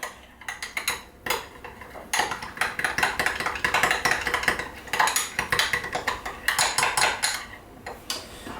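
Cutlery scraping and tapping in a bowl while mayonnaise and ketchup are stirred into a sauce, a steady run of close clinks and rhythmic scrapes with brief pauses, no talking.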